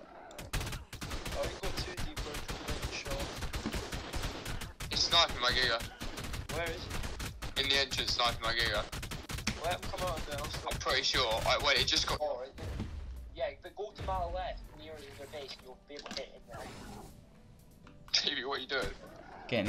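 Sniper and rapid gunfire in the survival game ARK Survival Evolved during a base raid, loud sharp cracks in dense bursts that thin out midway, with players talking over the shots.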